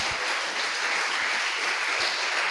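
A church congregation claps together during a Sunday service, a dense sustained burst of applause filling the room at steady loudness from start to finish.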